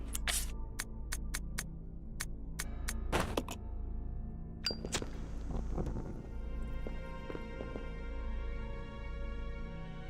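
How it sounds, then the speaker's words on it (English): Hoof clops from a horse in the video game Resident Evil Zero come in a quick irregular burst at first, then as sparse scattered knocks over droning game ambience. "it's the horse"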